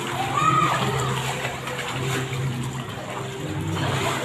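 A baby swims in water, kicking up a continuous splash and slosh close by while an adult and someone talk over it.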